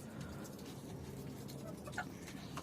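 Soft, distant clucking of chickens rises briefly over a low, steady background hum.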